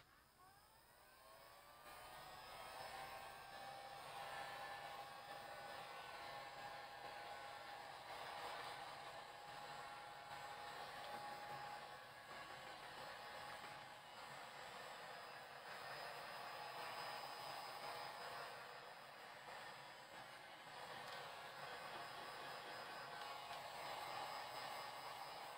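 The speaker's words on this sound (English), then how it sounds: "Heat gun again." A heat gun runs steadily for the whole stretch during a live painting session, a loud continuous whirring blow with a high whine, alone with no voices.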